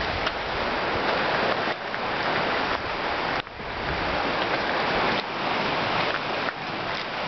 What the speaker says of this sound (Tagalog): Ingay ng dagat